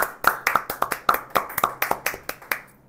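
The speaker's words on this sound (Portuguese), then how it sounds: "Uma salva de palmas." Hands clap in a brisk, even rhythm, a short run of sharp claps close by with no voices.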